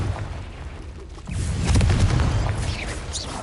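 A Confringo blasting spell bursts in Hogwarts Legacy, a deep booming explosion that hits after a quiet moment and rolls on loudly before slowly fading.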